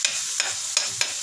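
Food sautéing in oil in a pan, a steady close sizzle broken by four brisk stirring scrapes at regular intervals, with no voices.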